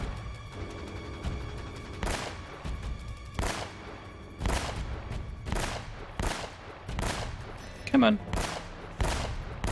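Pistol shots in the video game Uncharted: Drake's Fortune, about eight sharp cracks spaced roughly a second apart, loud over game background, with someone briefly speaking.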